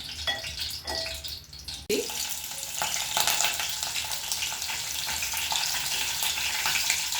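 Stuffed brinjal for a curry frying in a pan, a steady bright sizzle with a soft clatter and a brief disturbance near the start, continuing evenly throughout without any voices.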